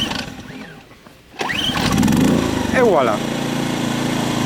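A Foxcot 2200i portable inverter generator is pull-started with a quick cord rip, catches and settles into a steady close running drone, with someone speaking briefly over it.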